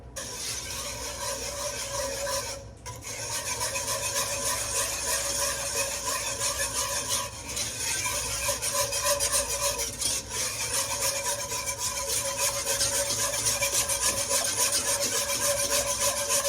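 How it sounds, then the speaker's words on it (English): Cake batter whisked steadily in a bowl, a continuous close scraping and rasping swish with fast even strokes that barely pause throughout. "you know what's gonna be even better is a whisk. So we're gonna grab a whisk"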